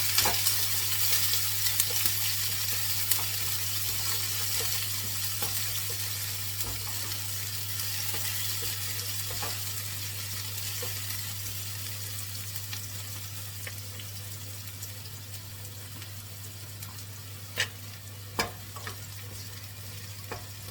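Onions, green chilies and garlic sauté in a pan, giving a steady close sizzle and frying hiss with occasional sharper crackles and light stirring clicks, steady and unaccompanied by voices.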